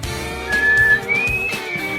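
A person whistles a short tune at close range, two sustained, slightly rising pitched notes over a background of steady music.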